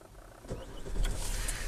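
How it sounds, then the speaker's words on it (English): A Kia Carens 1.7 CRDi diesel being started from the driver's seat, a brief starter whirr followed by the engine catching into a steady, moderately loud idle rumble, with no talking. "I can start the car up for us as well"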